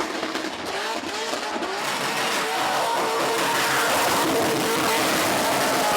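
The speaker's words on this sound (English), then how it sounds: "Aggressive skid, big time aggressive. Tyres on their way out." A car does an aggressive burnout at the Summernats Burnout Masters event in Western Australia, worn tyres skidding with a sustained harsh screech over loud, steady engine roar for several seconds.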